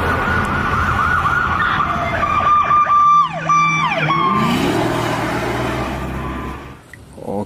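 A police car siren, a wailing and yelping tone that sweeps up and down over steady background noise and then fades away after a few seconds.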